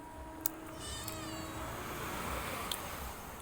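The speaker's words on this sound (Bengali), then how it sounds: "আমার পাশে বিড়াল মাসিটা ডাকছে।" A cat gives a single drawn-out, wavering meow close by, with a couple of faint clicks over a steady, noisy background.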